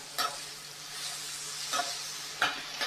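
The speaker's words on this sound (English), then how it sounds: "Just give a stir." One-pot spaghetti pasta is stirred in its pot over a soft, continuous hiss, with three distinct scraping strokes standing out clearly in a short, quiet stretch without speech.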